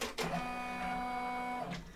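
An embroidery machine stitches out an applique arm piece, a steady mechanical whirring with tonal hum running close and even for over a second between brief thumps at start and end.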